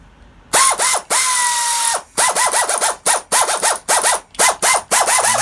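A Mastercraft pneumatic air tool from a 71-piece kit runs in loud, rapid bursts, a long steady whir followed by many quick repeated trigger pulses with rising and falling pitch, close up.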